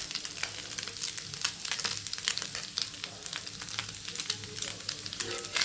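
Pomfret fish frying in soybean oil, a continuous bubbling sizzle with dense crackling pops throughout, heard close up and fairly quiet, with no voices.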